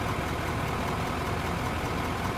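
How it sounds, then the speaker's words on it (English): A vehicle engine in the Out Of Ore video game runs at a steady idle-like rumble, continuous and moderately loud, with no voices. "I'm thinking it might be literally the sound of the engine."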